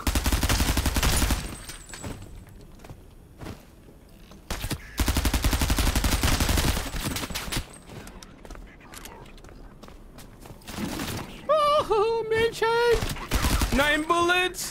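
Gunfire fills a shooter video game as a high-capacity weapon is fired. Loud, rapid automatic bursts come in sustained runs with brief gaps, and an excited voice speaks over the later part.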